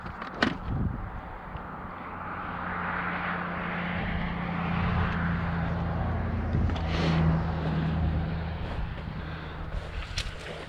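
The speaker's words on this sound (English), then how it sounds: "You're about to hear a car go by." A car drives past on a snowy rural road, its engine rumble and tire noise swelling to a peak and then easing away, with a steady low hum underneath.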